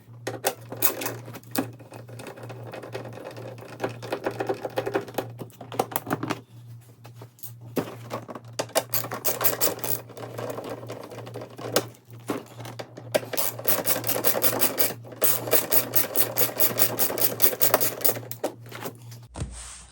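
Seat bolts come out of a Yamaha R1 motorcycle with a tool, making close, repeated ratcheting and rasping clicks that run almost nonstop over a steady low hum, with no talking.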